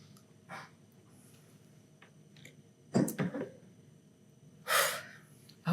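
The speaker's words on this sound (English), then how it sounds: "I'm going to take a deep breath." A person draws a deep, audible breath in a quiet living room, with two short breathy gasps in the middle and a longer, airy inhale near the end, close and fairly soft.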